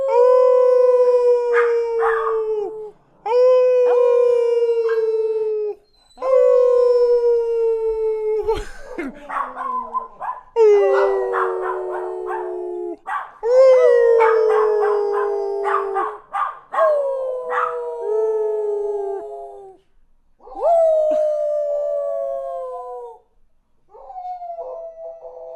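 Several dogs, one of them named Charlie, howl together in long rising and falling wails. The howls come in repeated bouts with short gaps between them, loud and close, and no one talks over them.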